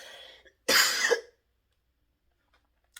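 A single harsh, painful-sounding cough bursts out loud and close, preceded by a faint murmur of voice and followed by near silence.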